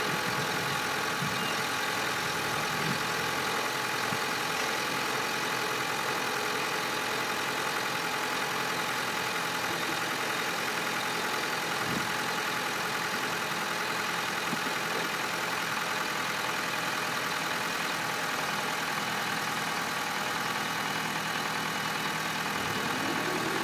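A 2006 Honda Civic with a 1.8-litre engine idles steadily for the whole stretch, a constant even hum with no revving and no voices.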